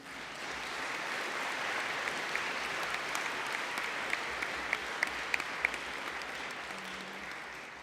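A large audience at a Model United Nations opening ceremony claps steadily for several seconds. The applause is dense and sustained, with a few sharper individual claps standing out near the microphone.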